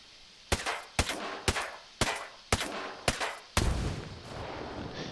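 Single shots from a rifle in the video game Ghost Recon Breakpoint, likely an AUG, MK17 or M4A1 Scout: six sharp, loud reports at a steady pace of roughly half-second gaps, the last one followed by a longer reverberant tail.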